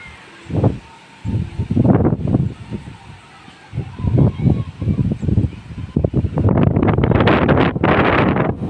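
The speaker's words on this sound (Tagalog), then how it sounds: "Ayun ang lakas ng hangin" Strong typhoon gusts of wind batter the microphone in repeated bursts during kite flying, building to a loud, sustained roar near the end.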